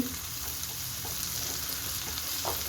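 Chopped onion sizzles in melted butter for paneer butter masala, a dense, steady close-up crackle with faint stirring scrapes.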